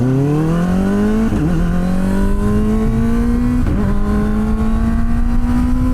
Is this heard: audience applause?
no